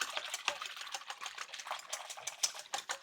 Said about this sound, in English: Let's whisk this up.